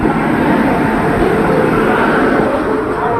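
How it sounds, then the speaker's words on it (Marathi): Steady, loud rumbling roar of the Varanasi–Mumbai Mahanagari superfast express rushing through Kasara station on platform 2 without stopping, a dense continuous rush with no breaks throughout. "platform number 2 fast train is passing"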